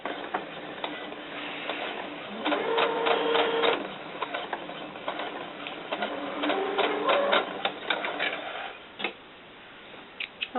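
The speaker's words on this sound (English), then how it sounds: "So let's just go ahead and run a seam across here." A sewing machine stitches a seam in light polka-dot fabric for doll underwear, running in steady mechanical bursts with short pauses, close and clear.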